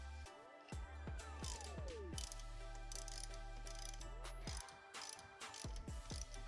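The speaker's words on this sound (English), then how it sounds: "I'm just going to tighten these two nuts against each other, and that will allow me to thread the stud into the case." Two nuts are tightened against each other on a stud to thread it into a Honda CR250 engine case, giving soft, repeated ratcheting clicks and mechanical turning noises, fairly quiet and close.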